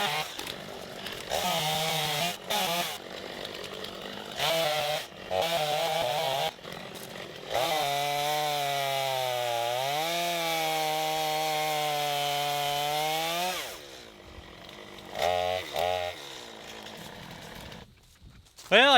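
A chainsaw bucks an oak branch during brush clearing, its engine revving in loud bursts and then holding a long steady cut before dropping off, with someone talking between cuts.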